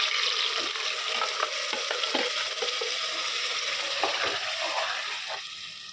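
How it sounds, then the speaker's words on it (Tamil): Ground masala paste sizzles in hot oil in a pan for chicken gravy, with a steady crackling fry and repeated scraping stirs close by that ease slightly toward the end. "அதுக்கப்புறமா அரைச்சி வச்ச மசாலா எல்லாம் இதிலே போட்டுக்கலாம்"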